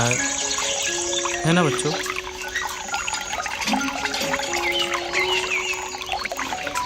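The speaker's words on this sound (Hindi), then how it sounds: "ये जादू का ट्यूबवेल से पानी निकल रहा" Water gushes and trickles from a small DIY toy tubewell on a miniature farm model, a continuous splashing flow heard close by under a person speaking to children.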